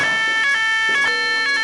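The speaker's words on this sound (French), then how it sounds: "Le report incendie sonne." A building fire alarm rings loudly and continuously, its harsh electronic tone pulsing in a steady repeating pattern about twice per second.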